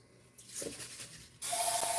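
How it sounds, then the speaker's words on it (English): Cooking spray hisses onto a pan in two short bursts, the second louder and closer, with no talk over it. "You can add a little bit of the cooking spray if you have some."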